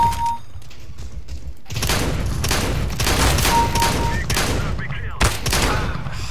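Shotgun blasts in Counter-Strike: Global Offensive, several loud booming shots in quick succession, with a voice talking over the bursts.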